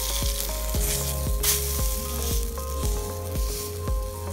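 Fish fries in a pan for fish meunière with a loud, close, continuous sizzle, punctuated by regular light ticking clicks, and no voices.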